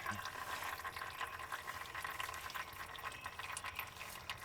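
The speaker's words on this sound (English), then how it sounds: "I'm taking the filler plug out. We'll give it air so it'll drain better, easier." Manual transmission oil draining out of a car gearbox with the filler plug removed, a steady gurgling, splashing liquid stream, continuous and moderately close, with no speech.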